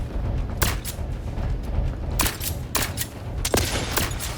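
A wrist-mounted weapon fires in The Outer Worlds 2, with sharp repeated shots in quick bursts over a low rumbling combat background, loud and close.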